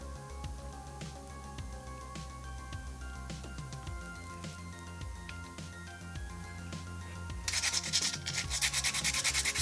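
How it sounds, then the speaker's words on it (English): Sandpaper rasps in quick, harsh strokes near the end, rubbing steadily against a joint on a 1/12 scale model figure after a stretch of quieter background sound. "Bit of heavy sanding to get that joint out."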